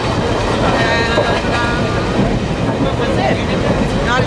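Loud, steady rumble of a night train running on its rails, with a continuous rolling roar and a faint rhythmic clatter throughout, heard from inside the carriage.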